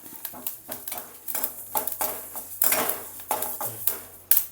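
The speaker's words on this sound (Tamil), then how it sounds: "நன்னா வந்து இந்த ஈரம்லாம் இழுத்து நடும் எள்ளும் வந்து நன்னா படபடன்னு பொறிஞ்சிடும்" Sesame seeds dry-roasting in a pan while a spoon stirs and scrapes them, giving a run of light clinks, scratches and crackles at a soft, close level.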